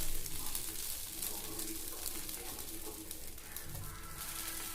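Dosa batter sizzles steadily on a hot pan after being flipped, a close, continuous frying crackle with faint stirring and scraping, no voices.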